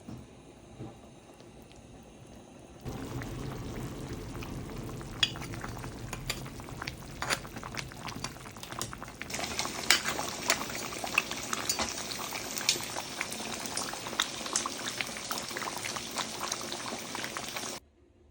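Goat meat frying in mustard oil in a large pot, a steady dense sizzle and bubbling that starts abruptly after a quiet moment, with occasional clinks and scrapes of a spoon stirring throughout.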